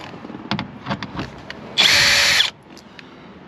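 A power drill backs out T20 screws from a 2017 Jaguar F-Pace door panel in one loud, steady whir lasting under a second, set between quieter handling clicks and taps.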